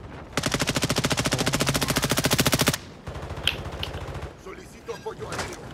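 A rapid burst of automatic gunfire in a video game rattles for about two seconds, followed by a few scattered distant shots and quiet game sounds.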